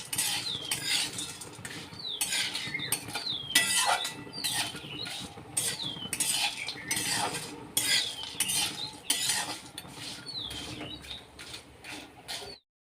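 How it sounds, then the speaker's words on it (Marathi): Whole spices including mace dry-roasting in a pan for goda masala, stirred with quick, repeated metallic scrapes and rattles of the spatula throughout, close and steady, no speech. "एक ते दीड मिनिटांपर्यंत हे मसाले छान सुगंध येईपर्यंत भाजून घेते"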